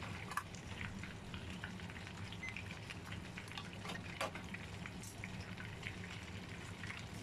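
Half-cut chicken deep-frying in hot oil gives a continuous soft sizzle and crackle, steady and fairly quiet, with a few sharper pops and spatters and no speech.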